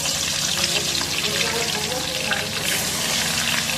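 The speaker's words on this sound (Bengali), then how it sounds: "এই তেলেতেই আমি আলুর দমের আলুটাও ভেজে নিচ্ছি" Potato pieces for aloo dum fry in hot oil in a kadai on a gas stove, giving a dense, steady, fairly loud sizzle that runs without a break.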